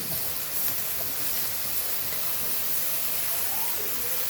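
Leftover vegetables, baby corn and cauliflower among them, hit a hot pan for Thai rad na with pork, giving a steady, loud, close sizzling hiss that holds without break.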